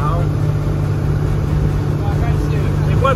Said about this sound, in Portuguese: Seu Wilson vai acelerando o carrão.